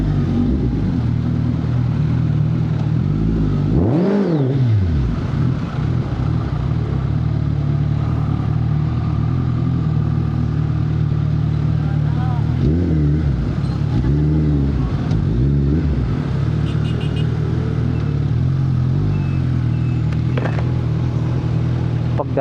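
A 1,340cc Suzuki Hayabusa motorcycle engine rumbles steadily throughout, with a rising rev surge near the start and a few more revs later, no talking.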